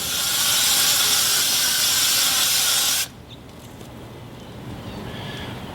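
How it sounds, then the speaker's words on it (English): Insecticide spray for mosquito control hissing steadily onto garden shrubbery, a loud continuous broadband spray for about three seconds that stops abruptly, leaving quiet outdoor ambience. "These types of sprays are good at getting things in foliage that you can easily reach."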